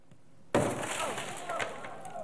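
A resqme keychain pin shatters a car window, giving one sudden sharp crack of breaking glass followed by a scatter of tinkling fragments settling close by.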